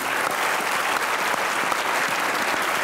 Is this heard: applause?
yes